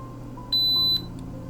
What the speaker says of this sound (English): Now we'll use the multimeter to check it again.